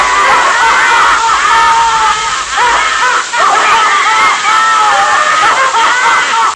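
A set of handcrafted sailor dolls shriek with laughter in unison, a loud, continuous chorus of high-pitched cackling that barely pauses, with one voice briefly dipping midway before the shrill din resumes.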